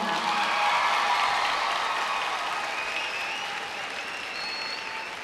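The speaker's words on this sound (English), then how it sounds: "please clap loud and proud in this moment" Sustained crowd applause at a high school graduation ceremony, steady and fairly distant, with some cheering and whistles rising late as the clapping slowly tapers.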